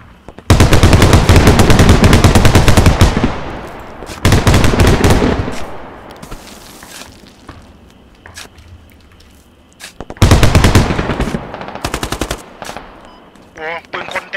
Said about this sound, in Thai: เสียงปืนเนี่ยมันเข้ามาแล้ว